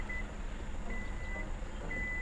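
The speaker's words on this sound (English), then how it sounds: "if you hear that beeping, if I walk away with the key still in my pocket" Faint electronic beeps from a Kia Carnival repeat at intervals as the key is carried away from the car, short tones over a low background hum.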